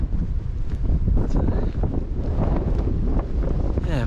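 Strong wind gusting across open moorland on a cold, foggy day near hill reservoirs, a steady loud roar buffeting the microphone with rumbling low buffets throughout and no voices.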